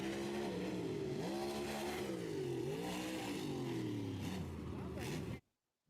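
A race car engine held in first gear revs hard and continuously, pitch sweeping up and down with strong harmonics, loud and close before cutting off abruptly at the end.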